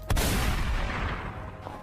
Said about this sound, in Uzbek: O'q ovozi eshitildi.